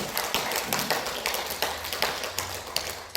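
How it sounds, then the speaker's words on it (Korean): A church congregation applauds with a run of quick claps in a fairly regular rhythm for about three seconds, over a low sustained hum in the room. "박수 한번 줍시다."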